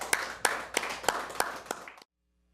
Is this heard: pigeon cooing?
no